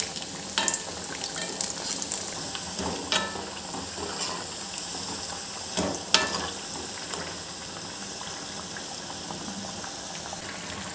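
Aval vadai (flattened-rice fritters) fry in oil over a medium flame, a steady close bubbling sizzle broken by occasional sharp clinks and scrapes as a ladle turns them, with no voices.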